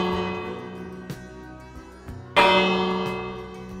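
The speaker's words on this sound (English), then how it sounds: "The church bell chimed to the rang 29 times for each one of the Edmund Fitzgerald." Church bell tolling at a memorial service for the Edmund Fitzgerald wreck anniversary, two resonant strikes whose rich ringing overtones decay slowly, the second louder, heard alone without speech.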